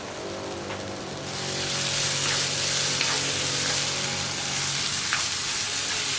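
Curry leaves drop into a pan of curry and set off a bright, rising sizzle that swells after the first second and holds as a steady crackling hiss, with no voices.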